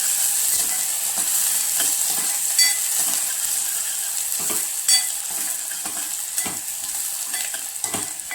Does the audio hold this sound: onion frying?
yes